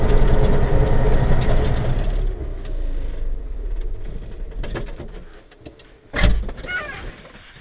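A tractor engine runs on the road without load, a loud low rumble close by that gradually fades, followed by a sharp mechanical clunk and lighter rattles as it idles down.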